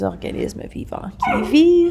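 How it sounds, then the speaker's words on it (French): A dog gives a drawn-out whimpering, yipping vocalization close by, rising into a sustained whine after someone speaking French at home. "Ça, c'est mon chien que tu viens d'entendre."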